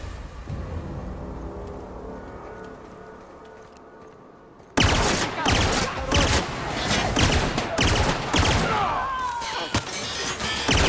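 Gunfire from a weapon in The Outer Worlds video game, a sudden loud barrage of rapid repeated shots with crashing impacts after a quieter ambient stretch, dense and continuous to the end.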